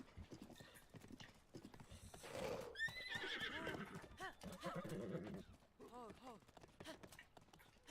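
A horse in the Breath of the Wild video game gives a rising, wavering neigh amid steady clip-clopping hooves, while a person talks over the game sounds.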